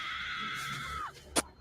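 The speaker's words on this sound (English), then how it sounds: "Did you hear the scream?" A scream from the party video game Jackbox Trivia Murder Party: a sustained, wailing cry that slides downward before cutting off, then a short sharp burst follows, heard alone at moderate loudness.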